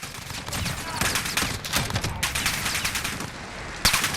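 An MK 20 SSR rifle in Call of Duty Modern Warfare fires in quick tapped bursts, loud and close, with shots packed in a rapid, slightly uneven rhythm and a final crack near the end.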